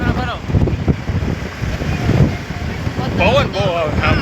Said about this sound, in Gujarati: પવન બહુ આવે આમ હોય